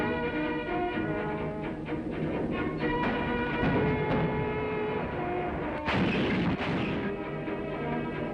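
Allied artillery pounding German positions on the heights of Monte Cassino during the WWII Italian campaign, heard as a dense, continuous barrage of booming shots with a louder, closer burst near the end.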